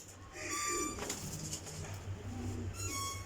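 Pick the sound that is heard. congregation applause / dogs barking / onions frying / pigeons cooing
pigeons cooing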